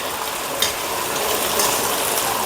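Potatoes, washed and chopped with the skins left on, cooking in a pan, giving a steady sizzle and crackle with a couple of small clinks, close and even.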